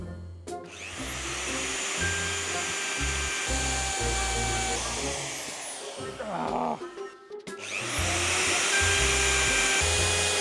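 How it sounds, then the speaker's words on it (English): A power tool cuts wood for a DIY tiny camper build, whining loudly and steadily for most of the stretch, dipping briefly before surging again near the end. "Now we are cutting the wood."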